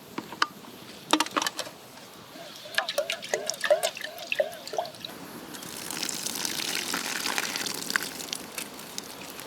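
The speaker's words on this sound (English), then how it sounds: "I need to rinse my lentils" Water splashes and drips near at hand as lentils are rinsed at a campsite in a dry riverbed, followed by a steadier running trickle, with occasional clatter.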